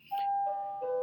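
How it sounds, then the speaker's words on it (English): A school bell rings with a sustained, steady electronic tone that starts abruptly and holds loud for about a second, with a slight pitch shift near the end. "Excuse me for the bell"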